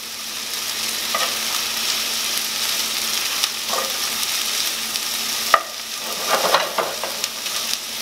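Peppers and garlic sizzle hard in a hot pan for vegetarian fajitas, a loud steady crackling hiss with a few sharp pops and scrapes as they are stirred, close and with no voices.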